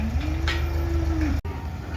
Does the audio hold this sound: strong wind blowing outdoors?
no